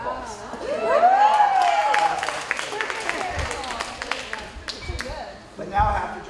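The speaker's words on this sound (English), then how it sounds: "Round of applause." An audience gives a round of applause at a beauty pageant training session, scattered clapping and crowd noise under a speaker's voice that keeps talking throughout.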